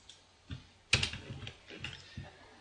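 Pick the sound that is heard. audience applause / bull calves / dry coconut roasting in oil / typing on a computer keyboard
typing on a computer keyboard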